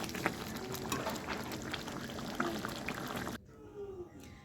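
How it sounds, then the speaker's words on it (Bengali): A pot of raw pea ghugni curry boils with a steady, dense bubbling and spattering close by for about three seconds before the sound abruptly cuts to near quiet. "এ দেখো, তরকারিটা ফুটছে।"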